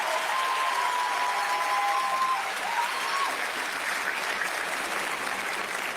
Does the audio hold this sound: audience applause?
yes